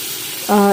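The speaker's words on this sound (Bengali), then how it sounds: "এবারে মুগ ডালগুলোকে ভালো করে ভেজে নিতে হবে।" Mung dal frying in a pan for khichdi gives a brief, close sizzle that bursts up sharply near the end after a quieter hiss.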